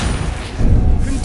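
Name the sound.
Confringo blasting curse exploding, from video game Hogwarts Legacy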